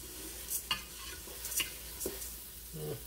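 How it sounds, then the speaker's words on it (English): Rice sizzles in the pot of a Ninja Foodi while being stirred, with soft crackling and a few louder scraping clicks over about three seconds, fairly quiet and close with no voices. "you'll see the rice get a little bit darker in some spots. The white part of the rice might become more whiter. Whatever. It'll continue to sizzle."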